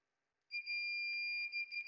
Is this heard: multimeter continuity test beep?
yes